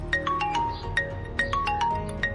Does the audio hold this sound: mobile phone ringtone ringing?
yes